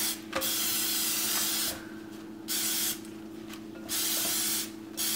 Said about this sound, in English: we're going to spray them generously with our vegetable oil